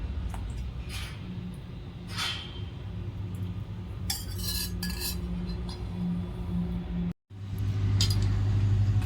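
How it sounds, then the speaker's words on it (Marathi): Jaggery and peanut oil for methi ladoos are stirred in a pan with a spoon, giving light scraping and clinks of metal against metal. These sound over a steady background hum and break off briefly near the end. "आता आपल्याला जोपर्यंत गुळ पूर्ण तेलामध्ये मिक्स होत नाही, म्हणजे पूर्ण मेल्ट होत नाही, तोपर्यंत सारखं ढवळत राहायचं"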